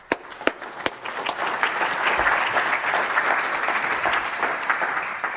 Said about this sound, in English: So just a quick round of applause.